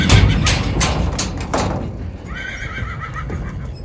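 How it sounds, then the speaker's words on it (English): Horses on a farm with geldings and fillies, a close whinny sounding over rhythmic hoof clip-clops, followed by quieter shuffling and a fainter call. "Blaze and Lex are joining the geldings and fillies down here"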